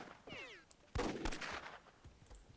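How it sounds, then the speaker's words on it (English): A grenade explodes in a World War II–themed Myth II video game match, a sharp close blast followed by crackling debris and scattered smaller pops, with no talk over it. "Even that grenade doesn't set off the pile."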